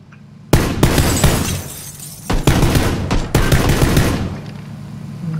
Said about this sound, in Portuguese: Nossa, os caras tomaram tiro